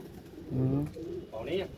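Pigeons on a rooftop coo in two short, soft, low bursts nearby, with faint background ambience.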